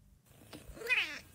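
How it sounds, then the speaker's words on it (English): A cat meows once, a short rising-and-falling call heard clearly and close after a moment of near silence, as it plays back from a clip of cats. "these cats are so strange."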